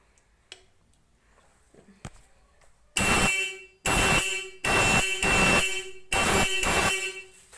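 After quiet fumbling, loud, bassy aftermarket dual car horns blare indoors in five bursts, with short gaps between them, close and harsh.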